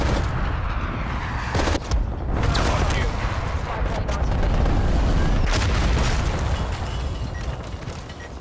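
Heavy blasts and rumbling explosions from a cruise missile strike in Call of Duty: Black Ops Cold War, a sustained loud roar with sharp cracks and booms throughout.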